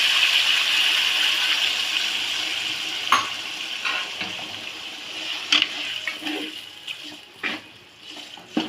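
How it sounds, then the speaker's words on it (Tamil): Roughly half a glass of water is poured into a pan of chicken gravy as it cooks. A steady rushing pour gives way to bubbling and sizzling, with a few clinks and stirs close by. "சிக்கன் வேகிற அளவுக்கு தண்ணி ஒரு 1/2 கிளாஸ் ஊற்றிடும் வாட்ரு."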